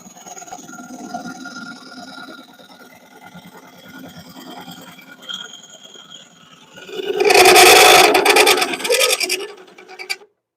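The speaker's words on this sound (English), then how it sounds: "That rattling you hear is not because it's not cutting, it's because it's not supported" An unsupported woodturning tool rattles and chatters against a spinning wooden bowl on a lathe, a harsh rasping burst that swells loudly after a quieter hum.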